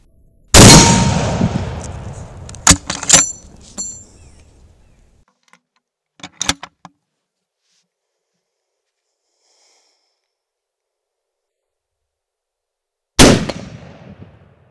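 A T-Gewehr, the first anti-tank rifle, fires a single loud, close blast that booms and echoes. Clicks and clacks of handling follow, and a second sharp report comes near the end after a long silence.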